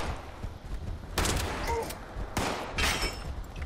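Shotgun blasts in a post-apocalyptic online shooter game, two loud booming shots with reverberant tails over a rough, noisy ambient background.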